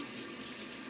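Water runs steadily from a tap into a sink while someone splashes their face during a shave, a continuous quiet hiss with no talking.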